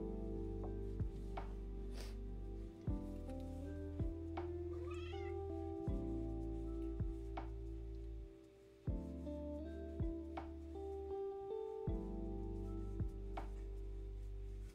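A cat meows repeatedly and close by, about a dozen distinct calls in an uneven rhythm, each fairly loud and tonal, with no talking in between.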